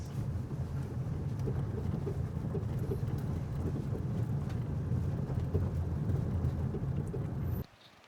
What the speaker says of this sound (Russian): Можно услышать, как приближается дождь.